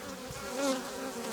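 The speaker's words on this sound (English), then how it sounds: "That is a male bee." A male honeybee drone buzzes at an open beehive during spring cleaning, a steady close insect drone that swells slightly midway, with other bees humming behind it.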